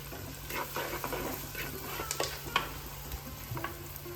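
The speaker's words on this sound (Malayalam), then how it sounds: "അങ്ങനെ അത് ഇതിനകത്ത് ഇട്ട് കൊടുക്കേ ഇടയ്ക്ക് ഇളക്കി കൊടുക്കണം" Fish curry sizzles in a pan while it is stirred, with a steady frying crackle broken by scattered scrapes and clinks of the spoon. No one talks.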